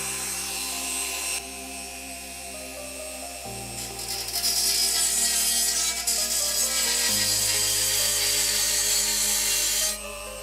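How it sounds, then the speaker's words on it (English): A Dremel rotary tool cuts pieces off with a sustained, high whining grind that gets louder and harsher in the middle. Background music plays under it and shifts in pitch. "So let's cut these off with a Dremel."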